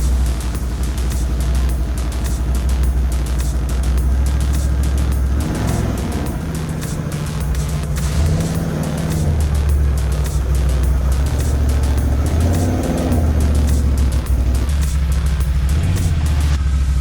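A Can-Am Outlander ATV engine runs loud and close as the quad is driven out of a garage, a steady low motor drone with rises in revs partway through.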